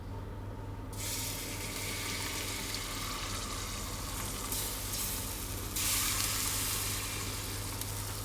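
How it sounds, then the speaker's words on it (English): Yorkshire pudding batter poured into very hot oil in tins, sizzling and crackling steadily with a brighter hiss swelling midway and near the end, close and fairly quiet, no talk. "Can you hear it sizzling?"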